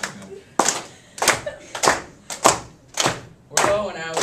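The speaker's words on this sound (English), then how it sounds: "So I have a little clap again." A small student group claps a slow, steady beat, seven or eight distinct close claps spaced about half a second apart, as a lead-in before singing a song about the 1840s Gold Rush, with faint voices between claps.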